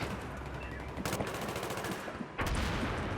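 Rapid gunfire crackles through a Battlefield 3 multiplayer match, with heavy bursts punching out near the start and again toward the end, suggesting a grenade blast amid the shooting.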